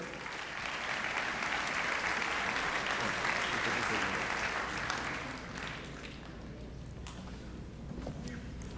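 Strong applause from an audience at a scientific lecture on membrane separation processes welcomes the speaker, loud and dense for about five seconds before fading into scattered claps and room murmur.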